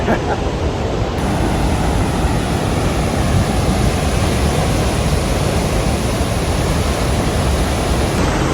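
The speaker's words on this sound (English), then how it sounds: "right over there, just a fierce torrent of the waterfall" A powerful waterfall torrent on the river Nile roars as a dense, steady, loud wash of noise that never lets up, filling the whole clip up close with no talking heard.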